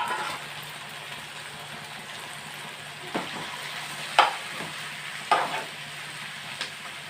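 Broad beans and sliced onions frying together in a pan for a bean and tomato curry, a soft steady sizzle with a few sharp stirring clinks and scrapes standing out, close and moderately quiet.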